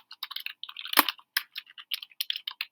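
Quick, irregular clatter of keys tapped on a computer keyboard, close and fairly crisp, with short bursts and pauses and one louder keystroke thump near the start.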